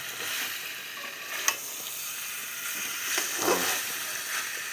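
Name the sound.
sautéing and stirring food in a frying pan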